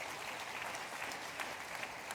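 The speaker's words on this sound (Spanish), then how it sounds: "Dale un fuerte aplauso, Señor." A church congregation applauds steadily during a pastors' retreat service, a dense, even wash of clapping heard alone without speech.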